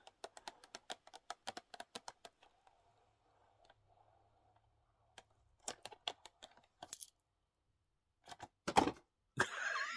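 Small, sharp clicks from an acrylic nail clipper snipping false nails, a quick run of crisp snaps, then sparse louder clicks near the end, close and quiet with no talking.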